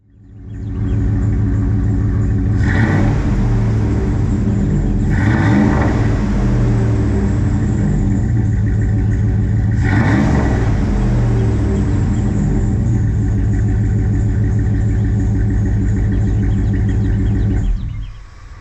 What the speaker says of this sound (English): That's the current exhaust note on the Ram.